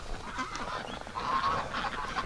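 Geese honking repeatedly outdoors on a windy winter farm, a loose chorus of nasal calls over steady wind noise, fairly close and continuous.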